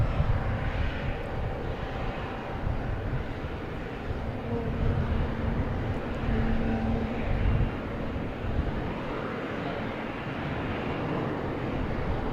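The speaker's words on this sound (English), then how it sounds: "We got JetBlue taking off on 33 left, heading to" A JetBlue airliner takes off from runway 33 Left at Boston Logan Airport, a continuous, broad jet-engine roar heard from a distance outdoors that swells and eases slightly over its length, with a little wind noise.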